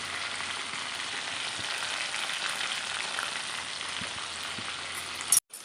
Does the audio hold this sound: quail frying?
yes